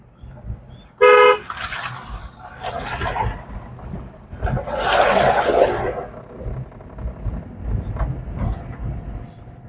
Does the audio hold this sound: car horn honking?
yes